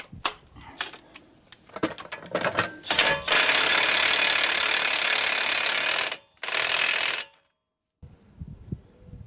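A ratchet running a bolt down on the front wheel bearing hub of a 2013 Chevy Traverse: loud rapid clicking, first in short bursts and then in a long continuous run, stopping briefly and starting again before falling silent, with some handling noise.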